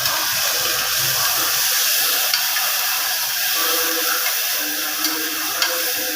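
Ground onion paste sautés in hot oil, giving a steady, even sizzle and hiss with faint ticks and pops scattered through it.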